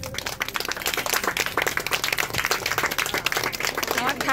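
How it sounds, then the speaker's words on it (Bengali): Audience clapping at a neighbourhood Saraswati puja inauguration, a dense burst of hand claps running throughout with voices mixed in underneath. "সবাই একটা জোরে হাততালি দেবেন।"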